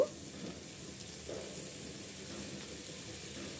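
Thinly sliced potatoes frying in oil in a pan, a quiet even hiss with faint bubbling and a few soft knocks.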